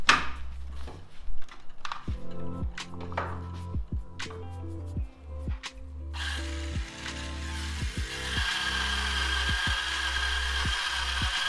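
An electric power tool planes down a wood slab, stripping off attached melamine, in a string of sharp, repeated bursts and knocks, then a steady loud whirring hum over the last several seconds.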